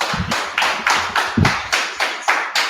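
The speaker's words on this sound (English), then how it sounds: "Let's clap it up. Clap it up." Group of people at a Feast of Purim gathering clapping in unison, sharp rhythmic claps roughly every third of a second, close and fairly loud with no speech.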